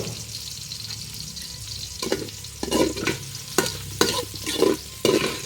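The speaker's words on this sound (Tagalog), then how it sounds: "May tumagsik yung sili. Pumuputok ang sili ah." Chili peppers fry in hot oil for a spicy jackfruit coconut dish, with steady sizzling broken by several sharp pops and spatters that come every half second or so.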